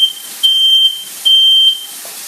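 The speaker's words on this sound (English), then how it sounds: "I took down all my smoke alarms" Smoke alarm in a kitchen during breakfast cooking, sounding repeated shrill steady beeps about half a second long with short pauses between, loud and close.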